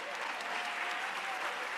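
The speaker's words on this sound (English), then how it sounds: "another round of applause" Brief, even applause from a civic-event audience, a steady wash of many hands clapping at moderate distance with no voices standing out.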